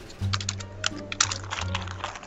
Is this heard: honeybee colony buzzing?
no